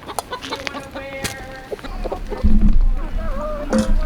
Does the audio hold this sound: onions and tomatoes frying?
no